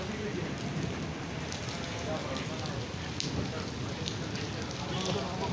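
Heavy rain falls steadily across a city in Dubai, UAE, a dense continuous wash of drops with faint voices mixed in.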